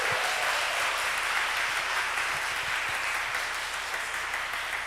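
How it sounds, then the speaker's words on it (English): A kindergarten graduation audience applauds the children's performances, a steady wash of many hands clapping, even and sustained from start to finish. "big round of applause for our performances"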